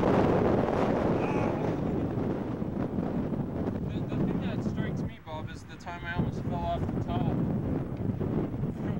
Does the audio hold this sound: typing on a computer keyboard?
no